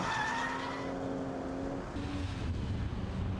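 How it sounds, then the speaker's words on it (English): A Ford XR6 Turbo drifts through a power slide, its tyres skidding in a loud, sustained squeal over the strained drone of the engine. "Warren's got it in quite a nice power slide there"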